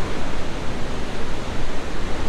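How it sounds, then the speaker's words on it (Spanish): Steady, dense hiss of rain pouring down, even and unbroken throughout. "No sé si se alcanza a apreciar como tal la lluvia"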